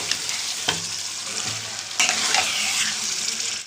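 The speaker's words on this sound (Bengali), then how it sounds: "ম্যারিনেট করা মাংসটা আমাদের ঢেলে দিলাম" Marinated chicken, cooked for a deep red chicken kosha, fries loudly in a pan and is stirred throughout, with a steady close sizzle, scraping stirs and a sudden surge of hissing partway through.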